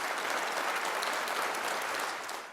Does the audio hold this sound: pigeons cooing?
no